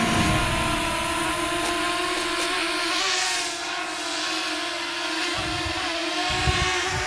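A Fimi X8 Mini drone lifts off on auto takeoff, its steady high-pitched propeller whine and motor hum ringing out close and loud throughout, with the pitch shifting slightly as it climbs.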